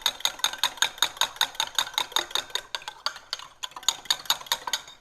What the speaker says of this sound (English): So I whisk those up just a little bit.